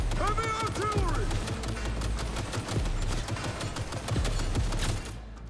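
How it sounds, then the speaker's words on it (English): Enemy gunfire in the video game Cyberpunk 2077: a continuous, loud barrage of rapid shots with a brief warbling electronic tone early on, dense and unbroken until it thins slightly at the end. "Why is he still shooting at me?"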